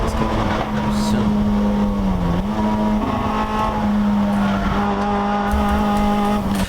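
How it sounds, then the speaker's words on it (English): A Honda Civic and a BMW M3 race car battle at Miller Motorsports Park in a USTCC touring car race: a sustained, loud engine drone holds a steady pitch with slight shifts while a commentator talks over it. "So the fight's continuing here between Pete Bovenberg's MBO Honda Civic and the BMW M3 of Beau Borders"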